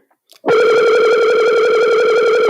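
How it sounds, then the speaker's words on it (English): A telephone line connects with a loud, steady pulsing ring tone that starts abruptly after a few faint clicks and holds unbroken to the end. "Let's see if we can get Styler on the phone here."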